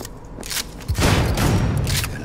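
Rapid gunfire bursts from the video game Cyberpunk 2077, a dense fusillade of loud shots with a brief gap before a sustained volley, no talk over it.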